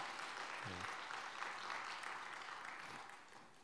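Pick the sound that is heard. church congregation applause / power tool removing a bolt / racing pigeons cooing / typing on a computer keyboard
church congregation applause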